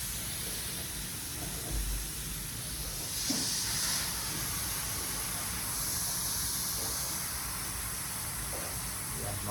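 Steady hiss of air escaping from a GC Mag Movil PCP air rifle during disassembly, a continuous near leak of pressurized air with slight swells, no talking over it.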